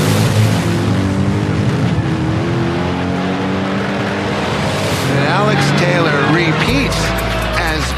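A race car at Roadkill Nights drag racing accelerates hard, its engine note climbing and dropping through quick gear changes, loud and close, with crowd noise and voices underneath.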